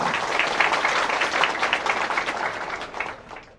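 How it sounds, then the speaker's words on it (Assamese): Audience applause at a community event in Chaygaon, a dense, steady wash of many hands clapping at once, fairly loud and sustained before tapering off at the end. "এটা হাত চাপৰি তেওঁলোকৰ বাবে মই বিচাৰিছোঁ আপোনালোকৰ"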